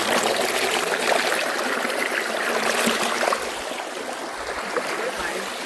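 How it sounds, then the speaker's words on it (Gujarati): Steady broadband rush of water pouring over rocks at Satkunda waterfall, continuous and close throughout, with a slight drop in level partway. "આપણા અવાજ કરતા પાણીનો અવાજ સાંભળો"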